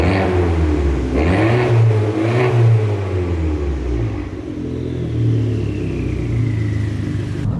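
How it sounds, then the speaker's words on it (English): Fiat 500 Abarth with a 1.4 turbo engine, its exhaust revving up sharply several times close by, then settling into a lower, steadier rumble. "it has an exhaust that sounds like this."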